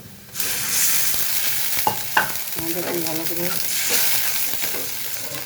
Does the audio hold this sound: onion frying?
yes